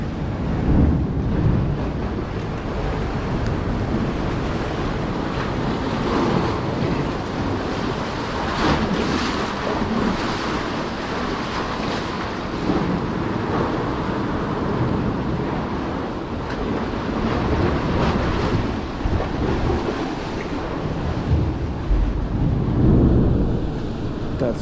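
Ocean surge churns through a small sea cave on the central California coast, a continuous deep roar and rumble of water with swelling pushes and wind buffeting the microphone.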